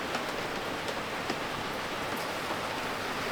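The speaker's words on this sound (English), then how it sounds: "it is still raining" Steady heavy rain falls during a thunderstorm on a sailing boat at sea, making an even, dense hiss with scattered close drops.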